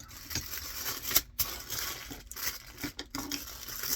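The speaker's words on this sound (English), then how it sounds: "cut open the shrink wrap package that I put this necklace in" A shrink wrap package around a necklace being cut open, close crinkling and crackling plastic with small snips and rustles in uneven bursts.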